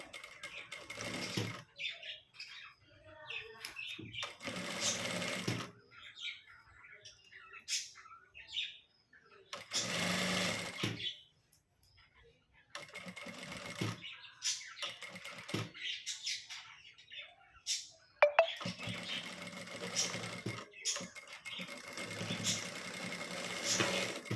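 A sewing machine stitches a blouse in several separate bursts of rapid, even whirring. Each run lasts a few seconds, with quiet pauses between them as the fabric is repositioned.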